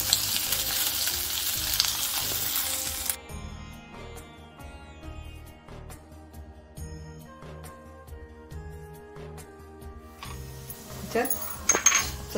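Boiled potato pieces with turmeric fry in a pan, a strong steady sizzle at first that settles into softer crackling with repeated clinks of a spoon against metal, close and without speech.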